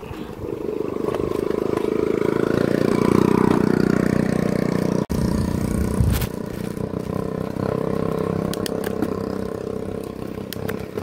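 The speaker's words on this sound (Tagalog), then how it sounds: "May motor ah." Motorcycle engine running close by on a road in San Jose Del Monte, a steady mid-pitched idle and rumble that holds loudly for several seconds, briefly cuts out, then resumes with scraping clatter.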